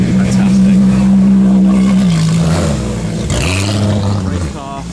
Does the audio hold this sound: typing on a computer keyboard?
no